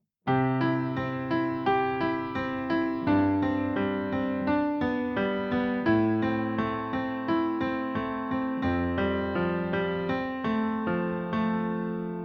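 Piano plays broken chords in a flowing, evenly repeating pattern, each note ringing and decaying, calm and unhurried with no talking.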